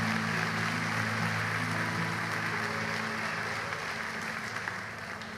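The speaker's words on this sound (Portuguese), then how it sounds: "Vamos aplaudir a palavra." A church congregation breaks into applause, a dense, steady wash of clapping with a sustained tone or hum underneath, slowly easing off over a few seconds.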